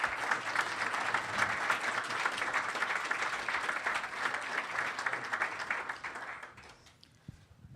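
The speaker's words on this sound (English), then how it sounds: "Let's please give Commissioner O'Reilly a big round of applause." Audience applause at a panel event on next-generation 5G wireless networks, a dense, steady round of clapping that carries on for several seconds, then thins and fades out near the end.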